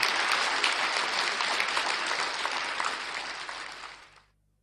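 Sustained applause from a large audience, dense and steady clapping that gradually thins and fades out near the end.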